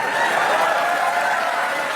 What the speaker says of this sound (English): A lot of applauding.